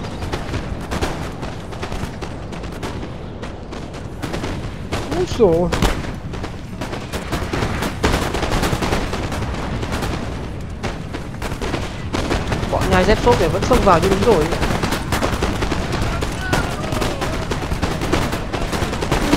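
Musket volleys and cannon fire in Napoleon: Total War, dense crackling gunfire and booms sustained throughout, with someone talking in Vietnamese over the battle.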